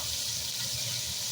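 Kettle-boiled water pours steadily into a hot pot of seasoned stir-fried pork for brown stew, a continuous close rushing splash with no voices.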